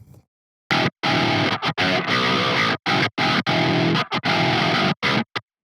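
A heavily compressed, distorted electric guitar run through multiband compression and transient shaping plays loud chugging chords in bursts, with short silent gaps between the punchy strummed phrases.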